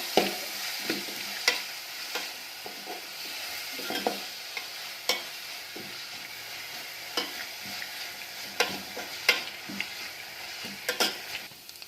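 Fenugreek rice is stirred in a hot pan, a continuous sizzle broken by repeated scraping and clacking strokes of a spoon against the metal, close and with no talking.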